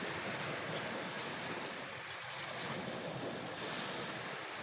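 Ocean waves washing ashore at a beach on Lipayran Island, Bantayan, Cebu, a broad steady roar of surf with wind buffeting the microphone, no voices.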